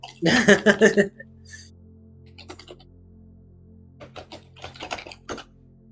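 Typing on a computer keyboard at a desk with two computers, heard as a loud, fast burst of clacking keystrokes, then scattered quieter taps and a second brisk flurry near the end.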